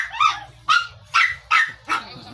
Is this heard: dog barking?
yes